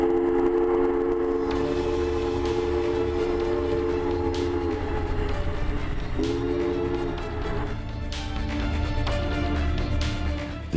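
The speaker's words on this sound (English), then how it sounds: "The train came to a stop." Train slowing to a stop, with sustained whistle or horn tones over a low rumble and intermittent metallic clanks and hisses, moderately distant, no talk.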